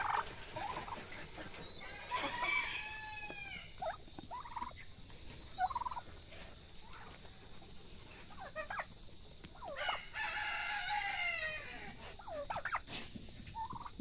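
Farmyard fowl call near and far in bursts of clucks and gobbling, with a few rising crow-like calls over steady outdoor background noise as the chickens are let out of a gate.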